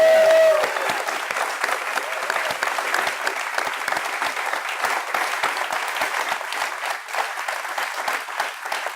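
Sustained applause with light cheering from an audience at a motorcycle racing team talk, dense and even clapping filling the room from start to finish without voices over it.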